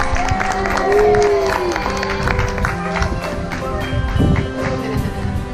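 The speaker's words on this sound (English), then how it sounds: "You guys give a round of applause." Audience applause and cheering in the stands at an aquarium dolphin show, a busy crowd clatter with splashing and mixed voices, fairly close and steady with a swell near the end.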